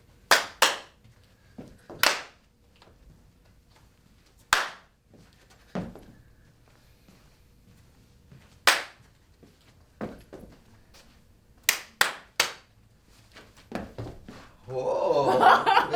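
Sharp, isolated hand claps ring out in a physical education class for fourth-grade children, single and paired claps spaced by quiet gaps, then a short burst of rapid clapping at the end, with faint voices talking between.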